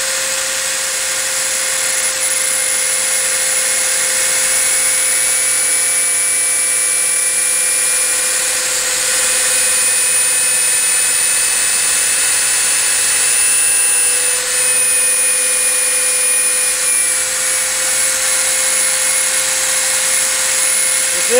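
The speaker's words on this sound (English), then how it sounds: "This is a 15/32 drill bit." A drill with a 15/32 bit runs continuously at a steady high whine for about twenty seconds, loud and close, with a slight pitch shift partway through and no talking.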